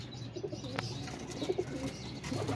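Low, throaty pigeon coos repeat several times over a steady background rumble, with a sharp click or tap near the start.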